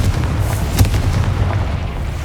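Explosive spell blasts in Hogwarts Legacy, a dense rumbling barrage of booms with one sharper crack near the middle, loud and continuous throughout.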